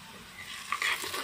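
Potato pieces being stirred in hot oil in a pan with onions and panch phoron, a short burst of sizzling with a louder scraping swish partway through; no talking.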